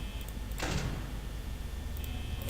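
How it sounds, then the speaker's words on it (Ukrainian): In the horror video game Five Nights at Freddy's, a door slides open with a short mechanical whoosh over a low, steady hum of ambient drone. "Треба відкрити двері, так, спеціально."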